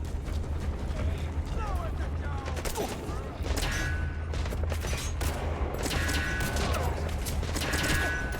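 Enemy gunfire in the video game Metal Gear Solid V, a continuous rattle of shots with clusters of sharp bursts over ambient game noise and speech.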